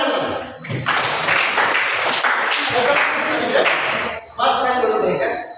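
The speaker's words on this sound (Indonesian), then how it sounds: "Tepuk tangan lagi." A classroom audience claps in a loud, close burst that runs through most of the clip, with voices mixed in and a brief dip before the clapping resumes.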